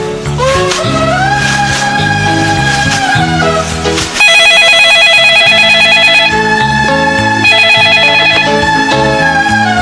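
A telephone rings with a loud, repeating electronic tune layered over a dramatic music backing in an Indonesian TV drama scene, steady and continuous throughout with no talking.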